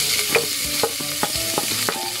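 Onions for paksiw de lechon belly sizzle in a hot pan while a utensil scrapes and knocks against it in a quick, irregular rhythm, close and fairly loud, with no voices.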